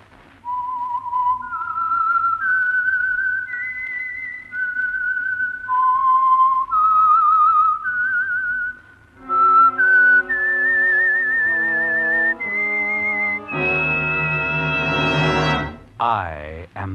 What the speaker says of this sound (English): the signal to listen for is this whistle that identifies the Signal Oil program